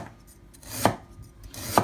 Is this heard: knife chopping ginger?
yes